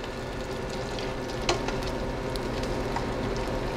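Eggplant topped with cheese fries over high heat in a pan, producing a dense, even sizzle and crackle with one brief clink partway through, steady and close throughout with no voices.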